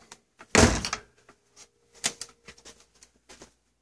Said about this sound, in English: This is the door to the outside.